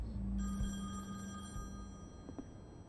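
A telephone rings in The Wolf Among Us video game, a bright trilling bell tone over a low hum with a short click near the end, no talk over it.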